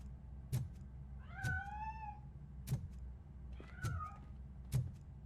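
A cat in RoboCop: Rogue City lets out two drawn-out meows, faint and close, between sharp regular clicks and thumps in a quiet game scene.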